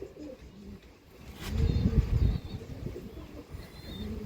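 Tournament-flown high-flying racing pigeons coo in low, rounded repeated phrases, with a louder cluster of calls in the middle, close by and without speech.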